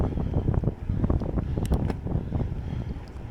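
Wind buffets the microphone during a cross-country mountain bike endurance race at Leptines, a loud, gusty rumbling roar with fluctuating low-frequency bursts and occasional brief rattles, continuous and close.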